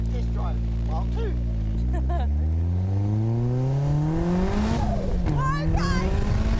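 Car accelerating on a test drive, engine pitch climbing steadily through the gears from inside the cabin, with voices and excited exclamations over it.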